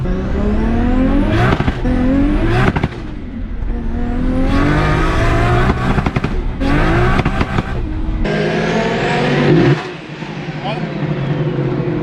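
A powerful street car's engine revs hard and climbs through the gears, rising pitch sweeps broken by shifts, loud and close, with a sharp drop near the end as something on the car breaks.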